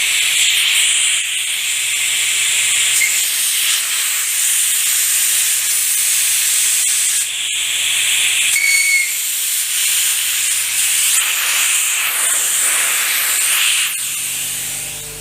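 Compressed air rushes from an air hose after its shutoff valve is opened at a quick-disconnect fitting, a loud, steady, close hiss that holds for the whole stretch with slight wavering, and no voices.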